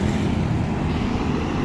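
Heavy trucks rumble past at the Bawen bus terminal, a continuous low engine and road roar that stays loud and steady without letup.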